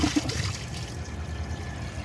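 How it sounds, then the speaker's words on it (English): Water trickles and splashes through the rim of a 1998 Nacesa toilet during a short flush, a close, steady running flow with a couple of small splashes at the start. "here's a little bit of a flush so you can see the water going through the rim"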